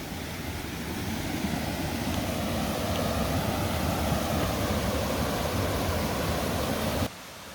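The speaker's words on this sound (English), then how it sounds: "We are coming up to Skylight Brook." Skylight Brook in the Adirondack High Peaks rushes steadily, a broad, constant hiss of flowing water close by that cuts off abruptly just before the end.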